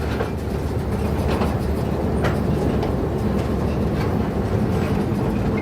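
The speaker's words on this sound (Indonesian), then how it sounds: "Oke, lokomotif sudah mengurangi kecepatan dan akan kembali untuk menarik melangsir lori kosongan selanjutnya." A locomotive slows down while shunting empty lori wagons on a railway, giving a steady, loud low rumble with a broad rushing noise and no distinct wheel clicks.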